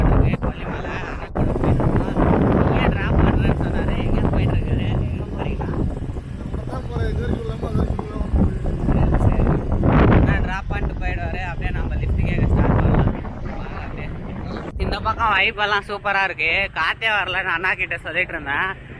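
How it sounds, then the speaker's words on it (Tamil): Wind roars and buffets the microphone during a highway ride, making a loud, continuous low rumble that eases briefly. Someone talks over it toward the end. "இப்போதாங்க ஜில்லுன்னு காற்று வருது"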